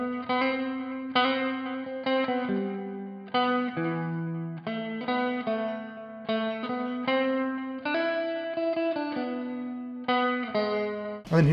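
A clean electric guitar plays a melodic lead line from a song with shimmering chorus and a reverb tail, steady and fairly loud, notes picked in phrases throughout.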